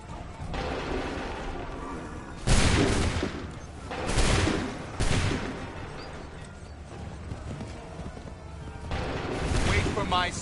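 Musket volleys crack out in Assassin's Creed 3, several separate massed bursts of gunfire a second or two apart, each a loud ragged roar, with shouted commands and battle noise between them.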